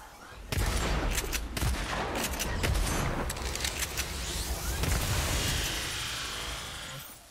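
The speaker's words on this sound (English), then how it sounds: "we just gotta get Johnny to fucking shoot it" Rapid gunfire from shooting in the video game Agents of Mayhem, loud bursts and repeated shots crackling densely over a few seconds, then tapering into a softer rumble.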